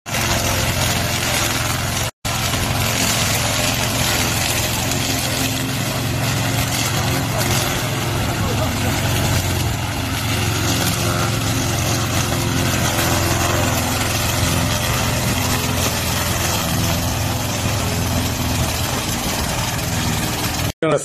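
A stainless steel motor dump tricycle with a 25 horsepower engine runs in a steady, close, rumbling idle throughout, with someone talking over it.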